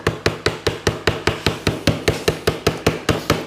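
A hammer taps sheet metal over the crisp edge of a wooden board, about eighteen sharp, evenly spaced metallic knocks at a quick steady rhythm, close and loud with no voices.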